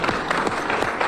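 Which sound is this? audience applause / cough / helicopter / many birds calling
audience applause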